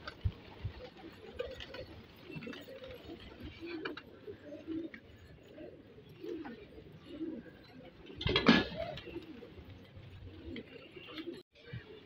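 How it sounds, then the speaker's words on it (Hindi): Many tumbler pigeons in a loft coo softly and repeatedly, low murmuring calls overlapping at a quiet level, broken by a single brief, louder burst of noise near the end. "देखें दोस्तों पर लगाए हुए कबूतर हैं बहुत सारे।"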